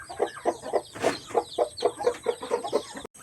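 A hen clucks in a regular, fairly quick rhythm nearby at feeding time, about a dozen short clucks, ending in a brief click.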